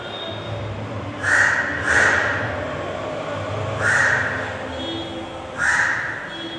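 A crow at Antarnath Mahadev temple gives four loud, harsh caws, spaced a second or two apart, over a low steady background murmur.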